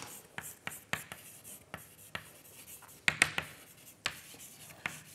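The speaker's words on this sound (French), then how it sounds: "Je vais écrire ici." Chalk or marker taps and scratches on a board while an equation is written out, giving sharp irregular clicks and short scrapes close by in a quiet lecture room.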